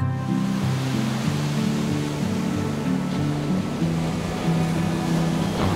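Waves wash onto the beach at Pantai Ngobaran on Java's south coast, a steady, dense roar of surf, loud and continuous with no talk.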